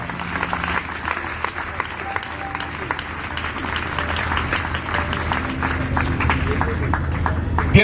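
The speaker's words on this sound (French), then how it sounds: "Acclamons la parole du Seigneur Jésus-Christ." A church congregation breaks into sustained applause, a dense wash of many hands clapping that grows slightly louder over several seconds, with faint voices mixed in.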